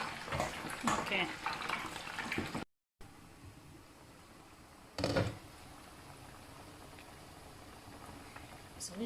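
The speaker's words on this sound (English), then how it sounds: "This is deep frying." Meat deep frying in hot oil for a Cameroonian potato porridge, a steady soft sizzle with brief louder stirring bursts, heard at close range and fairly quiet.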